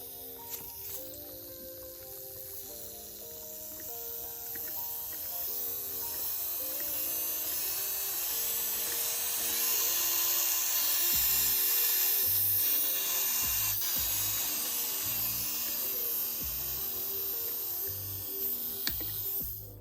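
An electric nail drill at 1000 RPM runs continuously on acrylic nails with a steady high-pitched whine that rises slightly in intensity midway, with no talking.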